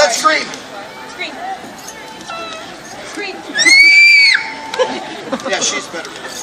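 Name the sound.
children screaming loudly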